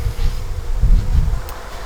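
Honey bees from a small colony buzz close and loud in a low, continuous drone that swells and fades as they move about.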